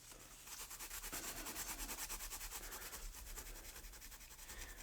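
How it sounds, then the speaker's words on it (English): A Scotch-Brite pad scrubs back and forth over a die-cast Hot Wheels car body during prep for painting, making a fast, even rhythmic rasping that carries on close and alone for nearly the whole stretch. "Scotch-Brite does such a good job for prepping these things."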